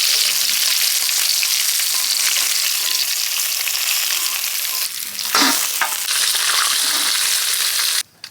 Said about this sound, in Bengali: দেশি তেলাপিয়া মাছ ভেজে নিচ্ছি